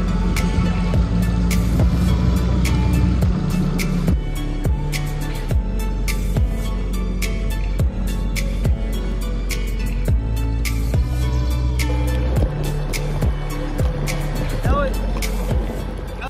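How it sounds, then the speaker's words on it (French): Boat ride through the marshes of Iraq, with a steady low motor drone and water wash running throughout, punctuated by irregular knocks and splashes, moderately loud and close. "Ali et Hussein nous emmènent pour une balade en bateau"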